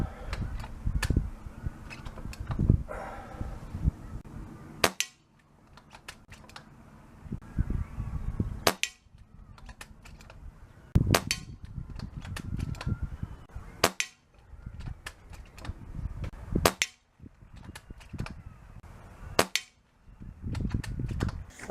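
Air rifle shots fired at a target 20 yards away, each a sharp crack followed by a faint ring, spaced a few seconds apart with handling noise and low rumble between.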